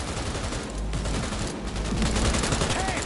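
Gunfire in the Cyberpunk video game rattles loud and continuous, a dense burst of rapid shots filling the scene, with a voice briefly heard beneath.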